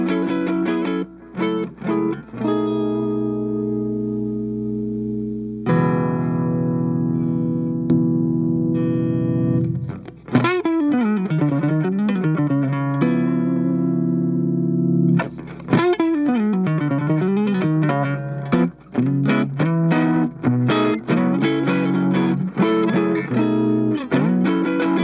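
Electric guitar played through a NUX Masamune boost pedal sounds loud and saturated, with sustained ringing chords followed by fast, bending lead runs and dense strummed passages with no talking.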